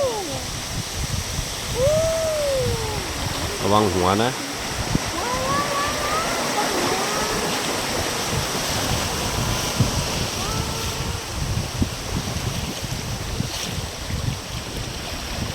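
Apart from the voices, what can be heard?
waterfall seen from a boat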